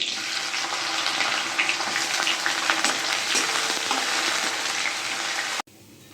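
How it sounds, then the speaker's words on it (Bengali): Onions fry in a pan with a steady, dense sizzle and crackle that fills nearly six seconds without talk, then cuts off abruptly. "তো পেঁয়াজ ভাজাটা হয়ে গেছে"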